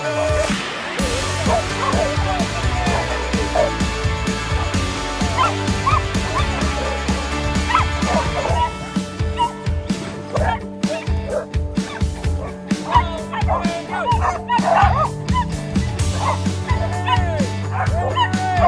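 Several dogs bark, yip and whimper continuously at close range, an excited mix of sharp barks and high whines, with occasional human voices underneath.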